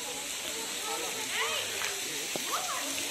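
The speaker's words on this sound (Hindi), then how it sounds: "तो भाई यहाँ पर पानी गिर रहा ऊपर से, देख।" Water falls from above at Pandav Falls in Panna, a steady rushing splash close by with people talking and the sound of a busy crowd over it.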